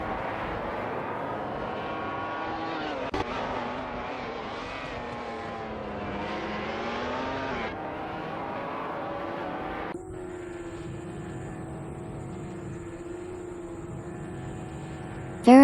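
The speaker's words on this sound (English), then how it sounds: "Gary No Name makes a decisive move, climbing to 6th place by overtaking Captain Potato from Team Racing Potatoes" Race car engines in a racing video game whine continuously, pitch rising and falling as cars accelerate and pass, with a shift to a different steady engine tone partway through and a sharp burst at the end.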